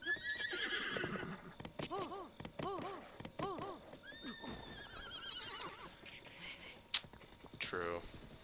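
A horse in the video game Breath of the Wild gives several loud whinnies and snorts over clip-clopping hooves, with a person talking quietly underneath.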